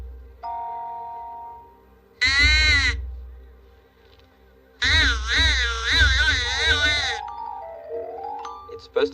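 A wooden call is blown in two harsh, wavering caws, the second longer, with quiet gaps between; a human-made whistle imitating a crow.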